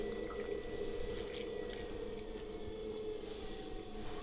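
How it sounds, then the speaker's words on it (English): Water runs and trickles steadily over spinning clay on a pottery wheel, applied inside and outside the pot at once, with a continuous wet wash under the wheel's hum and no talking. "when I put water on it, I both put water on the inside and outside at the same time"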